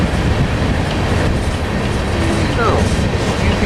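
A BNSF autorack freight train passes at Monolith near Tehachapi with a loud, continuous near rumble of rolling cars, wheel clatter and a faint brief squeal.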